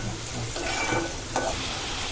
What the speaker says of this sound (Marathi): आणि आता फोडणीला सुरुवात झालेली आहे आपल्या